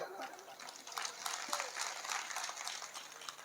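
An audience at a poetry recital claps in a dense, steady patter of applause, moderately loud and sustained across the whole stretch without letting up.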